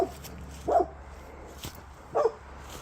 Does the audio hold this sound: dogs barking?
yes